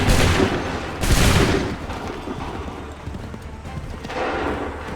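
A musket volley on an 18th-century battlefield in Assassin's Creed 3: two heavy, broad blasts close together at the start, then a sustained rumble of distant fire and battle noise.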